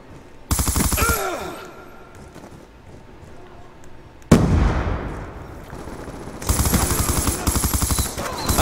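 Rapid automatic gunfire from a Black Ops 2 multiplayer match crackles in two loud sustained bursts, the second following a sharp blast midway, with a quieter stretch of game noise between them.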